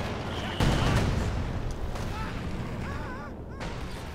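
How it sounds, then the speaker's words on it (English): Air assault bombing run in the Company of Heroes 2 strategy game, a sudden loud blast followed by rolling explosions and scattered gunfire, while a commentator speaks over the battle. "An air assault that looks like a bombing run"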